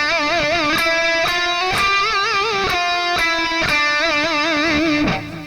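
A sustained melody is played with a very wide, slow vibrato that sweeps each held note up and down over several steady cycles, heard clearly and alone.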